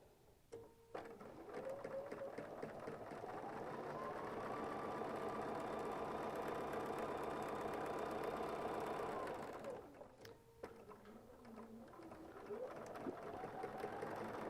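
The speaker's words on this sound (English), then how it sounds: "I'm going to sew down the other side of our drawn line" A sewing machine stitches a scrap quilt block along a drawn line, whirring up to a steady speed for about nine seconds, stopping briefly, then starting again in short bursts.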